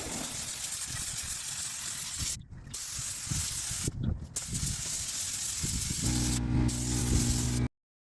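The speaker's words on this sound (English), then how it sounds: "Now this is the second coat on the poly spray." A spray gun applying a poly coat to an aircraft wing covering, hissing in steady bursts with brief pauses between passes, close and fairly loud, ending abruptly.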